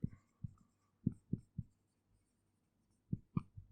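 A pen writes out an answer during a mathematics lecture, making quiet, close scratchy strokes in short bursts with brief pauses between them. No voice is heard.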